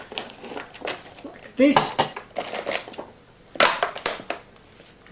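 New plastic toy packaging being handled and opened, giving crinkling, rustling and crackling bursts in short irregular spurts, close by, with someone talking throughout.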